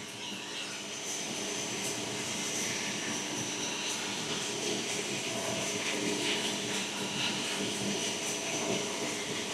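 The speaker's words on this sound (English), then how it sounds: "the noise at the background because I'm roasting our production batch of coffee using our slightly larger roaster" A larger coffee roaster runs through a production batch roast, giving off a steady, broad mechanical roar with a faint hum. The sound is continuous and unchanging with no talking over it.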